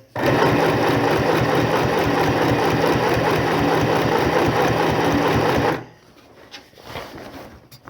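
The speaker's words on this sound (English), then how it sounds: "this sewing machine doesn't like reverse stitching" A sewing machine stitching tote bag straps runs steadily for several seconds with a fast, even mechanical rattle, then stops, leaving quieter handling noises.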